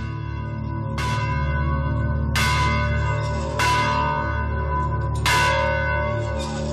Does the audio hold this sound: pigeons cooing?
no